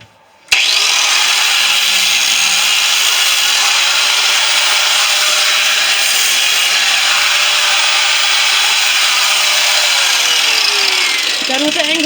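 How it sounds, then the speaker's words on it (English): Angle grinder cutting open a refrigerator compressor, a loud continuous high whine of abrasive metal cutting that starts abruptly and holds steady for about eleven seconds, easing slightly at the end. "Done with the angle grinder for now."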